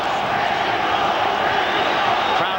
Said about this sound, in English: Crowd shouting Mexico.